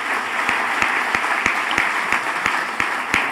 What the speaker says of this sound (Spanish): Quiero pedirles un aplauso para nuestro conferencista, para Daniel Zweigler,